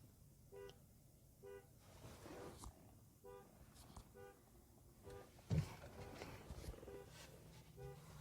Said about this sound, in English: Somebody's car alarm's going off.